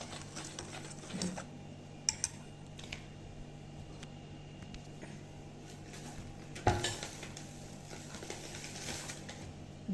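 Flour batter for kheersa patishapta pitha is stirred in a bowl with salt added. Soft scraping goes on throughout, with a few sharp utensil taps against the bowl, one louder clack near the end, and a faint constant hum behind it. No one speaks.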